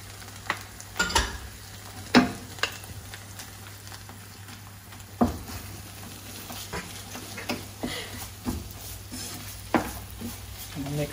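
Raisins get stirred into hayagreeva, a sweet dish, in a pan over a low background hum, with intermittent scraping and clacking of a spoon against the pan at an uneven pace.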